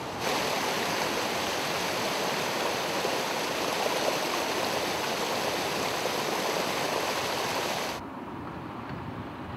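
Fast river current rushing at a boulder weir, a loud, steady broadband roar that drops abruptly to a quieter wash near the end.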